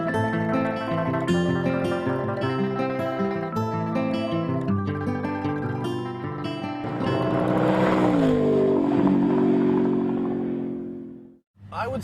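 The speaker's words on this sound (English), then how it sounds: "we are going to whip the snot out of Dan's brand new car on this racetrack" A new Volkswagen GTI is pushed hard around a racetrack, its engine holding steady droning tones that climb and shift as it revs, loud and close throughout before cutting off near the end.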